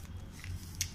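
A single crisp, close bite into a fried onion pakora dipped in green chutney, one short crunch near the end over a steady low background hum.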